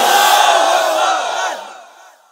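Large crowd shouting the takbir response in unison at a Bangladeshi Islamic sermon gathering: one loud, sustained massed roar that slowly fades out over about two seconds.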